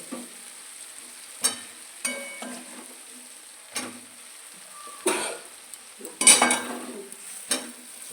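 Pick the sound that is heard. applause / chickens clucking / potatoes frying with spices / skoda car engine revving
potatoes frying with spices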